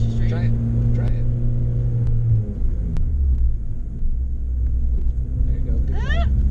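A manual-transmission car driven by a learner practising stick, its engine a low steady rumble that shifts pitch partway through as it accelerates, heard from inside the car with people talking over it.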